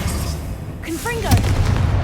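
A Confringo fire-blast spell goes off in Hogwarts Legacy: a short whooshing cast with brief tonal chirps, then a sharp, punchy blast and a low crackling rumble.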